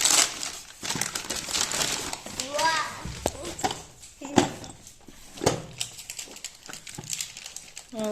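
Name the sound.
opening a delivered Amazon package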